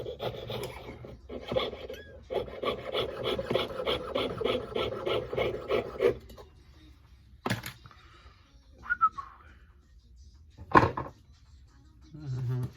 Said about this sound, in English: Let's just cut the sprue system off here.